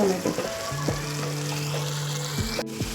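Tomato paste with salt sizzling in a pan for paneer tikka masala, a steady close frying hiss with light stirring and scraping clicks, no talk.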